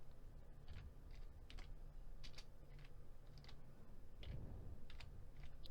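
Keys tapped on a computer keyboard during accounting software data entry, a few soft quiet clusters of keystrokes spaced irregularly over low steady background hum.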